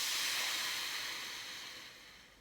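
A long, loud breathy exhale during a pelvic floor breathing exercise, a steady airy hiss that slowly fades over a couple of seconds, close and alone.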